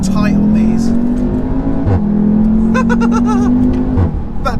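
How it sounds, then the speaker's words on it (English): A 2017 Audi TTS with a DSG gearbox accelerates hard, its exhaust droning loud and near in rising sweeps broken by quick gearshift cracks, while people talk over it inside the cabin. "Oh, that exhaust sounds wicked."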